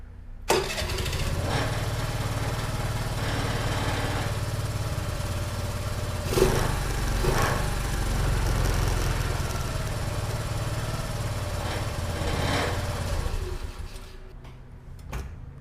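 A Honda Navi motorcycle engine with stock exhaust starts and runs steadily with a low, rumbling idle and a few revs, then cuts off near the end.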